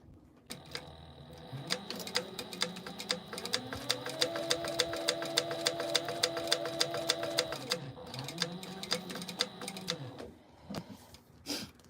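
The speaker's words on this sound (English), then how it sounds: "now we're gonna top stitch them." A sewing machine top stitching a bag strap runs in a steady, rapid clatter of needle strokes, slowing and speeding briefly before stopping, close and alone without talk.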